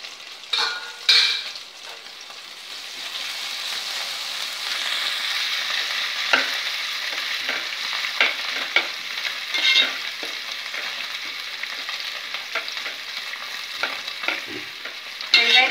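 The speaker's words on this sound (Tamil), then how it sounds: "வெங்காயம் கொஞ்சம் நல்லா ஃப்ரை ஆகட்டும்" Onions sizzle steadily in hot oil with mint and coriander leaves for mushroom biryani, with repeated scraping stirs of a utensil against the pan throughout; no talking.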